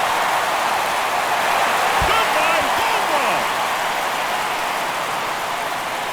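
A stadium crowd in the baseball video game MLB The Show 24 roars after a home run in the bottom of the ninth, a dense, steady wash of cheering and applause with a few rising whistles.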